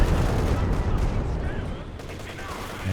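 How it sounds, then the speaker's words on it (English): A walking Stuka rocket barrage in Company of Heroes 2 rumbles as a continuous, loud wall of overlapping blasts and explosions, sustained throughout with no clear gaps. "Decent walking Stuka barrage there"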